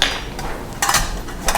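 Measuring spoons and cups being handled in a kitchen while gathering ingredients for a honey mustard dip, a few sharp metallic clinks and rattles scattered over quiet room tone, with no voices.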